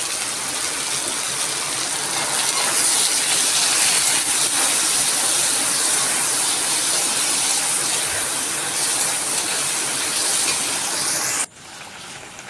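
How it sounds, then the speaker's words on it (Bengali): Spice paste with tomato fries in a pan, making a loud, steady, close sizzle that holds for about eleven seconds before dropping to a quieter hiss. "এখন আমি মশলাটা চলে কষিয়ে নিই ততক্ষণ"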